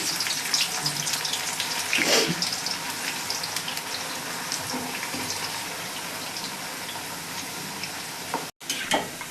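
Bitter gourds frying in hot oil make a dense, continuous close sizzle and crackle, with brief stirring clatters and a short dropout near the end.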